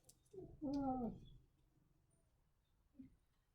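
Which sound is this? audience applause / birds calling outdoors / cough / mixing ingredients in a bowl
birds calling outdoors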